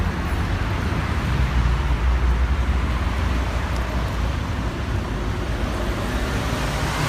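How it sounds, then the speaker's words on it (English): City traffic in Johannesburg, a dense continuous roadway rumble of passing cars and buses, steady and close with no talk over it. "traffic flowing as per normal in the city"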